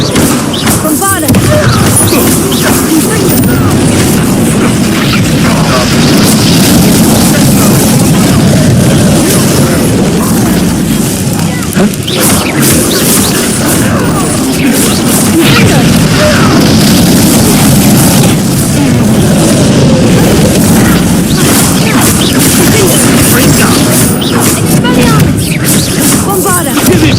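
Bombarda blasting spells go off in the Hogwarts Legacy video game, a dense, continuous barrage of booming explosions and crashes layered over busy combat noise for the whole stretch, with voices mixed in.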